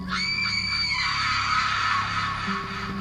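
A girl screams loudly in a horror story, one long sustained shrill cry that cuts off near the end against a low background hum, no talk.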